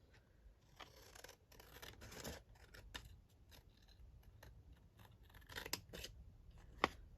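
Scissors cutting around a see-through sticker, a quiet, close run of snips and crisp blade clicks spread unevenly, with a sharper snap near the end.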